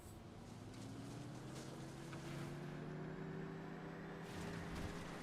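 Porsche Taycan electric car driving in the racing video game Need for Speed Unbound, a steady, even electric motor whine with rising tonal hum, continuous and fairly loud with no talking.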